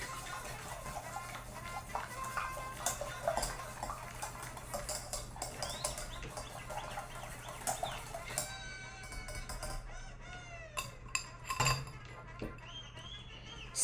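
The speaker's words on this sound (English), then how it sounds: "I'm gonna whisk this a little bit more actually" Someone whisks a mixture in a bowl while making salam de biscuiti, a Romanian biscuit salami, producing quiet, rapid clinking and scraping in bursts, faint and close, with a little background talk.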